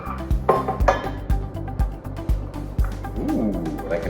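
A cocktail strained over ice into glasses, with ice clinks and metallic taps from the strainer and shaker at close range, alongside brief chatter.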